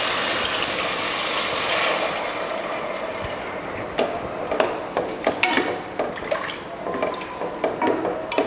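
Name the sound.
water being added to sambar in a pot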